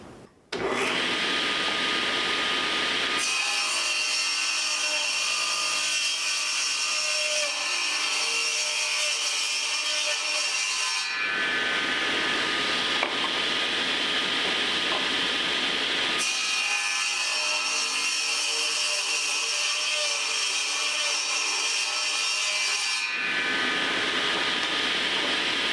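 Table saw with its blade set to three-quarters of an inch rips through wood for an easel, two long steady cuts of loud whining buzz separated by a brief drop to the motor's idle hum, no talking.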